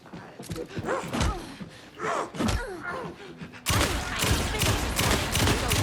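Video game gunfire and impacts in Alan Wake 2's Night Springs episode, scattered shots and slams giving way to a loud sustained burst near the end, with gasps and groans mixed in.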